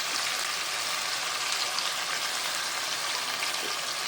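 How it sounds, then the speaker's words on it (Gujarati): Spicy masala for a pomfret fish curry sizzles hard in the pan as water goes in, a steady, bright hiss and crackle at close range with no talking. "પાણી એડ કરી દેવાનું છે."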